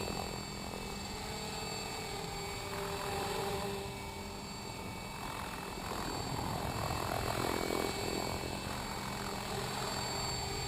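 A Logo 600 RC helicopter hovers outdoors at low head speed, with a steady whirring rotor drone and a faint rise and fall in pitch as it holds position, heard alone at moderate distance.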